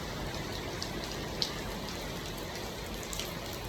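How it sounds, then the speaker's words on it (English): Heavy rain pours steadily in Yenagoa, a dense, even hiss of water with occasional louder drops striking nearby surfaces; continuous and fairly soft, with no talking. "it is raining heavily here in Yenagoa"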